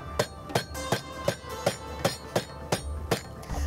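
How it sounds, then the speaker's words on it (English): Steady pounding with a meat hammer flattening beef for pasanday, about ten sharp evenly spaced thuds in a row, close by with no talking. "just hammer it down"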